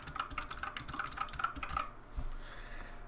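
Quick clicks of a computer keyboard as a character name is typed, a rapid run of close, light keystrokes for under two seconds followed by a heavier key press and quiet.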